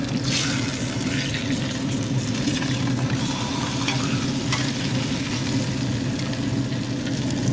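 Pork tenderloin fries on a pellet grill as it is flipped, giving a steady, close, dense sizzle with faint crackles throughout and no talking.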